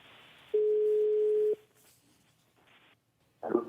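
A telephone call tone sounds during an outgoing call: one steady, loud one-second tone, then a quieter stretch, followed by a brief burst of line noise.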